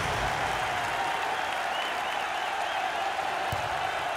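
A basketball arena crowd applauds steadily at an NCAA game between Texas State and Houston, a dense, continuous roar of clapping that fills the whole stretch at even loudness.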